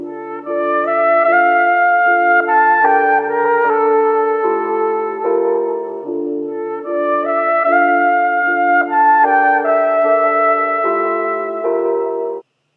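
A continuous melodic music loop plays alone, bright tones shifting through a repeating chord sequence at steady volume, cutting off abruptly at the end.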